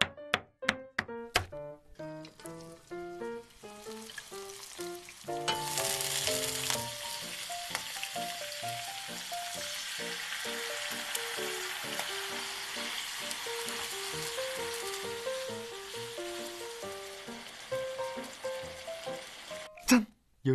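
Spicy webfoot octopus stir-frying in a pan, first a few sharp taps and thunks of ingredients landing, then a steady close sizzle with scraping stir strokes running throughout.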